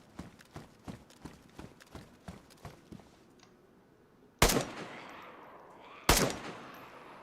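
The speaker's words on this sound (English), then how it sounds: "The shooting feels so good in this game." Gunfire in DayZ, a survival game, starting with a quick run of light clicks and thuds, then two loud, sharp gunshots a couple of seconds apart, each ringing off briefly.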